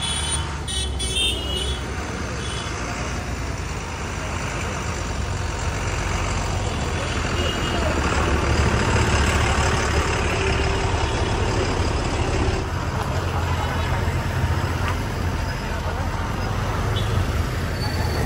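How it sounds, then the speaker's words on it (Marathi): A big truck rolls past on a roadside in Shrivardhan, a steady loud rumble of engine and tyres lasting throughout, with brief horn toots and faint voices mixed in. "केवढा मोठा ट्रक आला."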